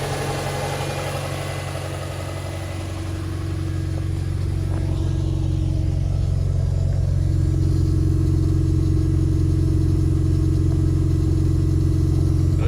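A Subaru Leone fitted with a swapped-in EJ20 engine runs loud and steady at idle, its rough exhaust drone building slightly a few seconds in and then holding, with no voices over it.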